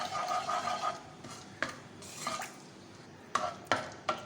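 Whole cinnamon, black peppercorns, cloves and green cardamom fry in hot oil, with a soft sizzle under several sharp metallic clinks and scrapes from a spoon against the pot.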